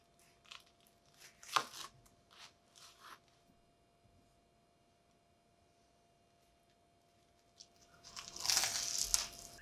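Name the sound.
crispy black bean burger patty crunching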